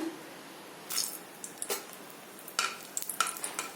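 Dry red chillies frying in hot white oil, a soft steady sizzle broken by a few sharp crackles and pops at irregular moments, close and fairly quiet with no talking.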